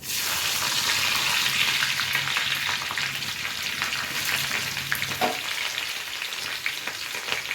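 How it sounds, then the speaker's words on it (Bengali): Dried red chillies and slit green chillies sizzle in hot melted ghee, a loud, steady frying hiss that crackles close up and eases off slightly toward the end. "তো দিয়ে দিচ্ছি ঘিয়ের মধ্যে কটা শুকনো লঙ্কা আর কটা কাঁচা লঙ্কা চেরা"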